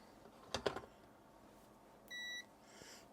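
A multimeter continuity check on a plug fuse during restoration of a BBC Micro Model B gives a single steady electronic beep of about a third of a second, preceded by faint handling clicks.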